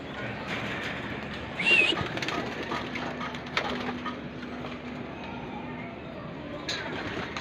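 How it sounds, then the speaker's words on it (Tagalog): Racing pigeons at their loft coo softly in the background, and a brief burst of sound midway could be wings as they take off, all fairly low and steady with a little background noise. "Ay, lilipad mga kalapatids."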